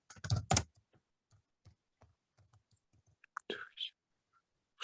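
Soft, sparse keystrokes on a computer keyboard while typing a document in Microsoft Word, irregular clicks under a quiet whispering voice, with a brief louder burst at the start.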